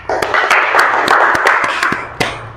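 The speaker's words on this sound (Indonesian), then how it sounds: "silakan tepuk tangan nak" A small group of students in a classroom claps together in a brief burst of close, uneven applause with a few sharper claps standing out.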